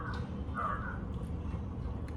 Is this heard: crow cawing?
yes